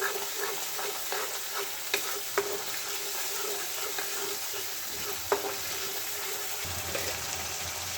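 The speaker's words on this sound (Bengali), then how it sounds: "মশলাটা ততক্ষণই নাড়াতে থাকবো যতক্ষণ না এর তেলটা রিলিজ হচ্ছে।" Masala spices sizzle and fry steadily in hot oil in a pan while being gently stirred for a Bengali pepper fish curry, with a continuous crackle and occasional clinks of the spoon.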